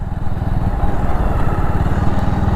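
A Bajaj Avenger motorcycle rides along with its engine thumping steadily and loud up close, a continuous low rhythmic rumble with road noise and no talking.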